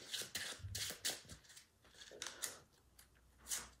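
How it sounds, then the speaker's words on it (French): A deck of cards for the board game Heat gets shuffled close up in a series of quick riffling bursts and soft slaps, quiet overall with brief pauses between shuffles. "on va remélanger le paquet"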